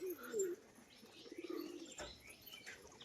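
Crested pigeons coo softly and nearby, with low rolling calls, light chirps and a brief flutter of wings.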